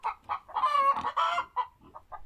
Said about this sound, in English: See, that's a rooster. These are all roosters.